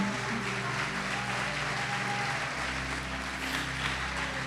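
A church congregation claps at a Christian worship gathering, a dense, continuous burst of applause filling the room, steady and loud throughout.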